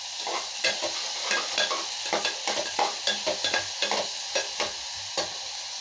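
Onions sizzle and fry in a pan for potato podimas while a utensil scrapes and stirs in a steady rhythm, close up, with no talking.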